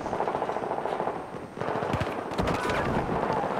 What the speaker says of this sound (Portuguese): Muita trocação de tiro próximo à bandeira alfa